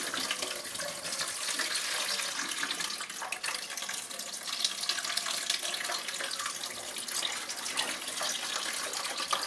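Water running steadily from the drain pipe of a Daikin heat pump, a continuous even flow heard close and alone, with no talk.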